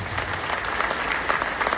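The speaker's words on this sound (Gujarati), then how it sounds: "જોરદાર તાળીઓથી આ ટીમને વધાવો." Loud, dense audience applause for a team at a Bhagavad Gita course gathering in Surat, a steady roar of many hands clapping without a break.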